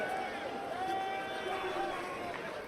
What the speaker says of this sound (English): there's a raucous crowd gathering just down the tunnel, shouting and tussling